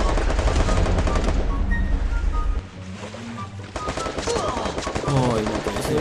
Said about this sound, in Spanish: No, me están disparando